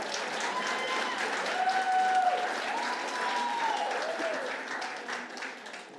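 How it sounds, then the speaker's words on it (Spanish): A church congregation claps enthusiastically in a thick, continuous wash of applause, with some voices calling out through it before it gradually tapers. "Gracias por ese aplauso tan entusiasmado."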